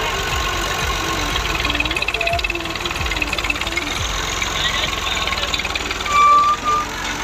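A Massey 240 tractor engine labours to pull free from a rut in a field, a close, loud diesel knocking and revving with surges of effort, while people talk over the engine noise.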